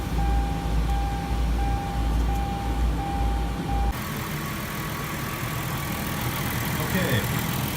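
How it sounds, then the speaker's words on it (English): A 2008 Hyundai Santa Fe's 3.3-liter V6, fresh from an oil change with full synthetic oil, runs at a steady idle nearby, its low hum continuing while a voice talks over it. "Okay, we started the engine."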